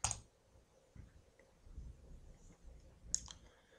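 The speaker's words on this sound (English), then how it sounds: "Click on OK." Mouse clicks in LTSpice on a computer, two sharp, quiet clicks roughly three seconds apart over faint background hum.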